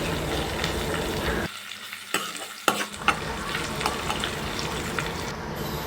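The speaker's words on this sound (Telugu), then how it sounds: "ఇంగ్రీడియంట్స్ అన్నీ కూడా ఆయిల్లో చక్కగా ఫ్రై అవ్వాలి" Pulao ingredients, including onion and kasuri methi, fry in hot oil with a continuous loud sizzle. Stirring causes brief dips and a few clinks from a spoon against the pan, and nobody speaks.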